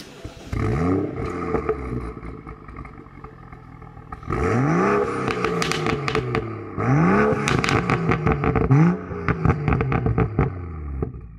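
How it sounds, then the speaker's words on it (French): A six-cylinder supercar engine revs hard in repeated rising and falling bursts, loud and close, with crackles and pops between the pulls and short pauses separating the runs. "Maintenant je vais te montrer comment ça chante un 6 cylindres."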